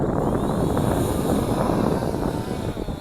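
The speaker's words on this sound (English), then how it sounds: "starting the motors, and we're going to do takeoff." Brushless motors of a ZLRC Beast CSJ-X7 (SG906) GPS camera drone spin up for takeoff, giving a steady, loud, close whirring buzz with a high tonal whine that holds throughout.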